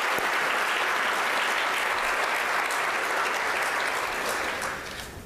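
A large room at a 20th annual valedictorians luncheon breaks into sustained, heavy applause, a thick roar of clapping from many guests that holds steady and then fades in the last second.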